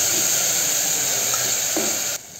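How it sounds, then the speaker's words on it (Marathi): An onion and tomato paste fries in oil, giving a steady, even sizzling hiss that holds for a couple of seconds and then cuts off abruptly. "तर आपण ह्याला पूर्ण तेलामध्ये तळून घेणार आहेत अगोदर"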